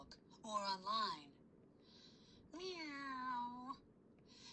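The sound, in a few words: cat meowing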